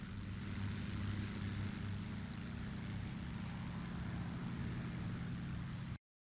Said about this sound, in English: plane taking off from an airfield